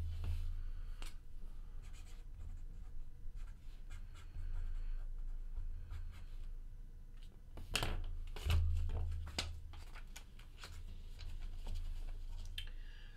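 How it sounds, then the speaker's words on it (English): A pen scratches on paper at a card-break table, with faint, irregular strokes and soft ticks over a low background hum, quiet and close, with no one talking. "Let me write down David H's name here."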